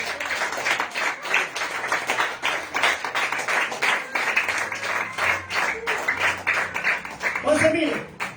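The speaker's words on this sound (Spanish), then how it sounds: "Den aplausos al Señor." A church congregation claps together in a steady, sustained round of applause during a sermon, dense and continuous, with a voice briefly audible near the end.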